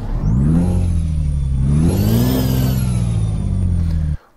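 Kenworth W900 truck engine in Euro Truck Simulator 2, loud and close, holding a high rev, surging higher once midway, then cutting off abruptly at the end.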